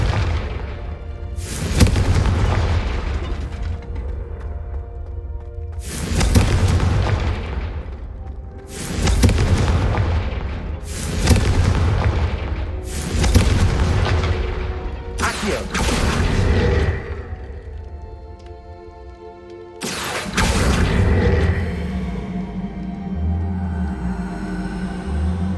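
Confringo blasting spells cast in the Hogwarts Legacy video game, a series of heavy booming explosions about every two to three seconds, each one decaying before the next hits, with more crackling blasts toward the end.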